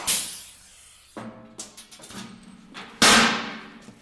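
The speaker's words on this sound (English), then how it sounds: "rivet the top first." A rivet gun sets rivets through the top of an aftermarket BDX/SSI Ascender-Pro running board into a vehicle chassis, giving a few sharp snapping pops spaced apart with quieter handling noise between them.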